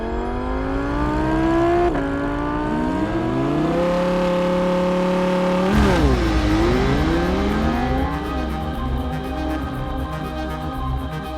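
An Audi launched hard from a standstill with traction control off, its engine revving loud and steady, rising in pitch through the gears with clear shift breaks as it accelerates, close up and with no talking.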